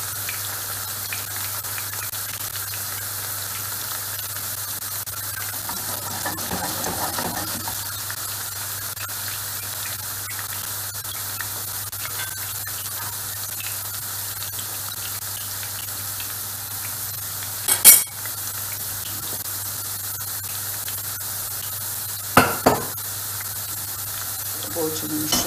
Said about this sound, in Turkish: Patateslerimizi de çok kızartmayacağız arkadaşlar.